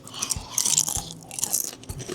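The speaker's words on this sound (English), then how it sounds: "Do a crunch test." Crunchy deep-fried fingerling potatoes being bitten and chewed close up, several sharp crisp crunches in quick succession with short pauses between bites, no talking.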